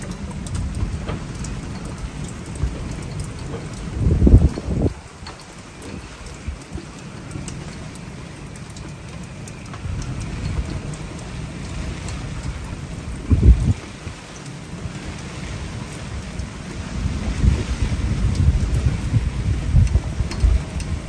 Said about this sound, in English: Still windy, raining.